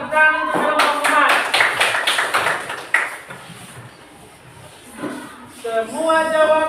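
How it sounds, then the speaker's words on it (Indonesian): A class of students in a teaching-practice lesson claps for a group, a burst of fairly close, uneven clapping lasting a few seconds, then fading under voices and chatter before talk resumes. "tepuk tangan untuk kelompok 4"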